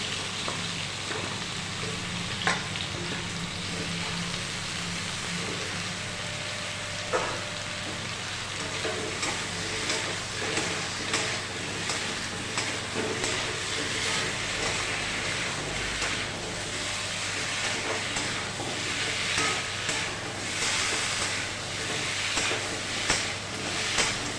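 Cut taro pieces sizzle steadily in hot oil with potato, onion and tomato for a Bengali fish curry, a continuous frying hiss broken by occasional scraping stirs, close and fairly loud throughout.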